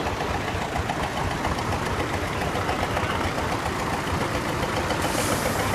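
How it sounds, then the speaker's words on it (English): A homemade Caterpillar diesel engine runs steadily at a steam rally, a loud, close, continuous rumbling chug with no pauses and outdoor noise around it. "Little Caterpillar homemade diesel here."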